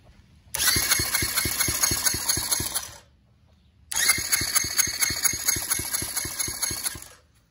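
A Yamaha quad engine that sat locked up for four years cranks over in two bursts, each about two and a half seconds of rapid, even rhythmic turning without catching, separated by a short pause.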